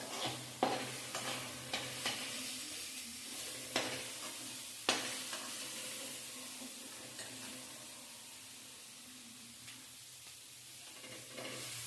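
Carrots for pasta sizzle steadily in a pan while a spoon scrapes and knocks through them in irregular strokes, close up, the stirring easing off midway as the frying hiss carries on, with no voices.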